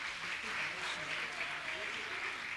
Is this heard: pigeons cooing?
no